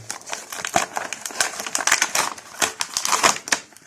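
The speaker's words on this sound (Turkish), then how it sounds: "Bir açalım bakalım kutumuzu." A cardboard box holding a knockoff Thor action figure is opened by hand, giving close, rapid crackling, tearing and rustling of cardboard and packaging in uneven bursts, with no voices.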